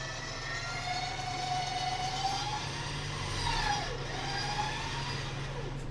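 A Rugcel 13500 lb winch strains to drag a stuck vehicle out of deep mud, giving a steady, droning motor whine with a rising and falling pitch. The pull sounds fairly close and runs on continuously, with no talking.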